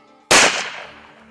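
A single loud, sharp rifle shot fired at an elk during a hunt, with a sudden crack followed by a rolling echo that fades over about a second outdoors.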